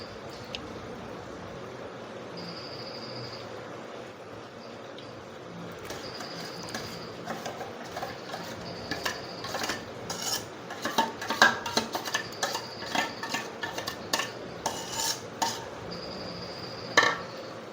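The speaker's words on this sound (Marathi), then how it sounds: "याला आता चांगलं मिक्स करून घ्यायचं आपल्याला" Mushroom curry being mixed in a pot produces intermittent scraping and clinking of a utensil against metal, sparse at first and then growing busier and louder with repeated sharp taps, over a low background hum.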